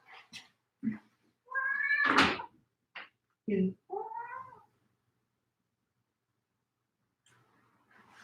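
A house cat meows several times in quick succession close to the microphone, drawn-out tonal cries with short gaps between them, followed by silence and faint background noise.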